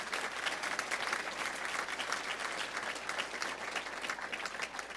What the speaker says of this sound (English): round of applause for Dr. Hickson